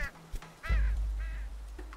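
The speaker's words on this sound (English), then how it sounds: "Oh, there's a bird." A bird in the game Unravel gives a few short nasal honks, goose-like and close, over a low rumbling background.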